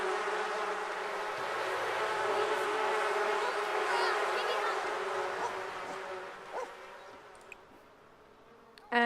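A bee swarm in The Sims 4 buzzing steadily while pollinating nearby flowers, a dense continuous drone with game music tones underneath, fading slightly near the end before a sharp click.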